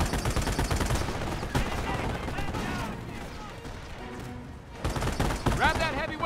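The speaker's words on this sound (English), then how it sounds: "Yeah, it's an MG." Machine gun fire in the game Company of Heroes, rapid rattling bursts at close range that fill most of the stretch, with other battle noise and voices underneath.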